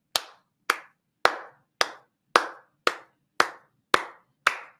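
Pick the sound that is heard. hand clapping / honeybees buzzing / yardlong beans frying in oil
hand clapping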